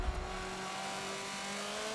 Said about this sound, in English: I have the gearing set, so this car accelerates so good.